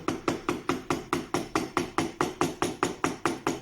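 A mallet drives a chisel into an oak bread board to carve letters, giving about fifteen sharp, evenly spaced knocks in a fast, steady rhythm, close and clear, with no voices.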